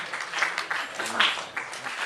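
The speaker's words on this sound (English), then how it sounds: "Round of applause for this young lady." An audience at a Neil Hamburger comedy show applauds a young lady winner with brief, moderately loud clapping that rises and falls in uneven bursts.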